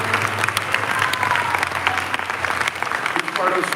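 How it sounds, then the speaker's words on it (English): Festival audience applause for the team rolls on as steady, dense clapping throughout, with crowd voices mixed in. "Let's have a round of applause for this beautiful team."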